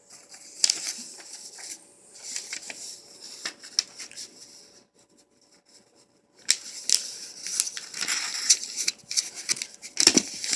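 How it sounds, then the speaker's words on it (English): Construction paper folded in half by hand, giving bursts of crisp rustling, crinkling and sliding paper sounds, with a quiet gap midway before a denser stretch of handling and creasing close by. "take your paper and fold it in half"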